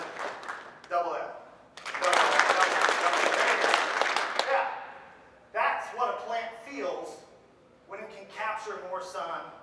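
Farming talk audience claps louder, doubling a golf clap into a burst of full applause lasting about two seconds, framed by someone speaking before and after.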